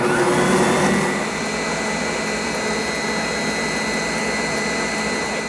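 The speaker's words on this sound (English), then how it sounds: "I turn on my mixer to a high speed and I'll mix it between 5 and 10 minutes" An electric mixer runs at high speed beating eggs and sugar for a cake batter, a constant loud whirring drone with a slightly stronger start that settles into an even hum.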